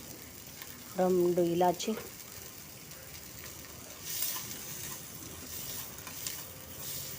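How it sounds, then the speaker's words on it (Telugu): Whole cinnamon and cardamom pods fry in hot oil, giving a steady, moderate sizzle and hiss throughout. A short spoken phrase comes near the start. "అది కూడా ఫ్రై చేద్దాం. మంచిగా ఫ్రై అవ్వాలి."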